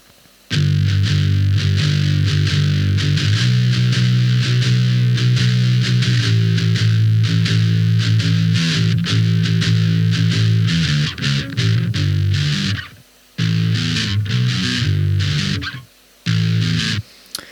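A distorted bass guitar plays a gritty, sustained riff, loud and continuous, with brief pauses near the end.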